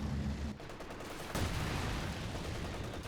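Incendiary barrage in the video game Company of Heroes 2: a dense roll of booming impacts and rumbling blasts with a sharp crack partway through, loud and continuous.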